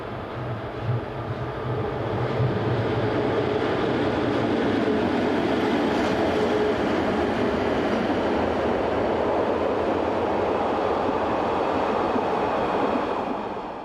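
Locomotives 11641 and 11176 pass on a European main line, a loud, sustained rushing rumble of wheels and wagons that swells in and holds steady before easing at the end.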